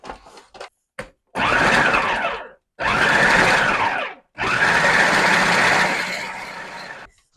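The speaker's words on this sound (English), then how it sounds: "And we're going to blend." Kitchen blender whirring through liver pâté with chunks of butter, running in three long loud bursts with short pauses between, preceded by a few brief clicks and pulses.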